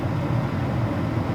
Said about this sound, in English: and this is the hum of a ventilation system too.